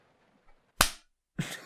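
Two sharp gunshots from the video game Resident Evil Zero, loud and close with a short decaying tail, spaced about half a second apart after a faint earlier tap.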